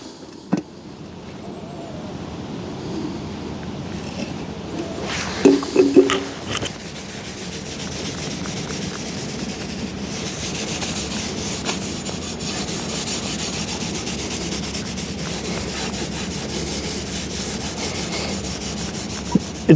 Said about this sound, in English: So I'm going to apply the sealer now.